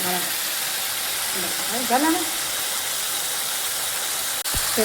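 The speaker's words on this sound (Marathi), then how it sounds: "चला मस्त फ्राई करून घेतला बघा अगदी तट तडतड करतोय" Rajma masala with red chilli powder frying in a pan gives a steady, close sizzling hiss, with a brief voice rising over it midway.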